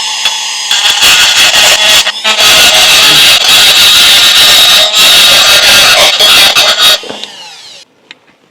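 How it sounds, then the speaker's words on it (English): Paint being scraped off a Scout vehicle frame down to bare metal for a ground strap, a loud, continuous harsh grinding or abrading that runs for several seconds, then stops and fades to quiet. "I have to remove some paint so they can make an electrical contact"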